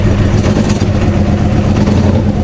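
A 1984 Honda Sabre VF1100 V65 motorcycle engine idles steadily with its choke off after a carburetor rebuild, a loud, continuous low rumble close by with no talking.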